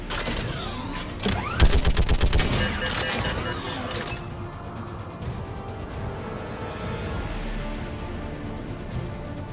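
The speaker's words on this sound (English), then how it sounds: "the guns are already picking Cerberus ships out of the sky" Anti-aircraft guns in Mass Effect 3 open fire on Cerberus ships, a loud burst of rapid, rattling shots and mechanical clatter in the first few seconds, then a sustained rumbling battle din.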